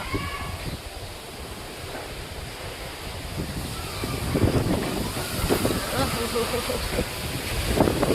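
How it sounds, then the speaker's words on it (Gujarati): Strong afternoon gusts of wind outdoors at a Gujarati home on a dark, overcast day roar and buffet the microphone continuously, rising louder in the second half, with no one speaking. "વાયરો જબર આવે"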